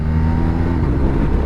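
A 2023 BMW R 1250 RT motorcycle in dynamic mode upshifting with a slightly jerky shift, its engine a close, steady, loud drone throughout.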